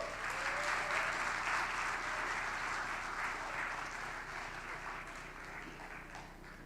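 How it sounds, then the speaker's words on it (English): Sustained audience applause fills a conference hall at WordCamp Kerala 2023's main venue, a dense, even wash of many hands clapping at once that holds steady and eases only slightly toward the end, with no talking over it. "A round of applause, please."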